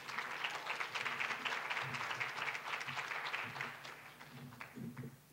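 An auditorium audience applauds to welcome a speaker, a dense, steady wash of clapping that gradually thins out toward the end.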